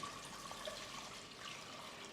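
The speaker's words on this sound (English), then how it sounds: "All I'm going to do is put the water inside." Water pours into a cooking pan on a robotic kitchen setup, a soft, continuous splashing and trickling stream held at a faint level throughout, with no speech.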